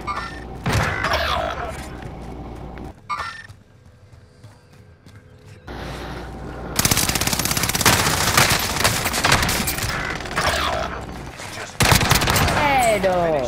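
Gunfire from M1 Garand and AS44 rifles in a video game: dense bursts of rapid shots with several loud stretches and a quieter gap, under bits of talk.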